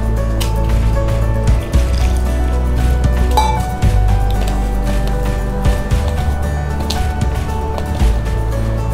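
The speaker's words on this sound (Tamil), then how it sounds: "இது கூட தேவையான அளவு நீர் சேர்த்து" Water is poured onto finger millet (ragi) flour in a bowl and the dough is mixed, making wet squelching and dripping sounds in uneven bursts, close up.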